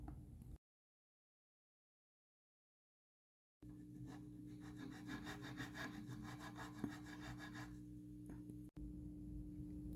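Small files rasp back and forth in the nut slots of a Fender Classic Series 50's Telecaster, a close, rhythmic scratchy stroking after a stretch of silence, with a steady low hum beneath.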